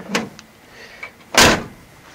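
A car passenger door shuts with a single solid thump, preceded by a few faint clicks and rustles of handling nearby.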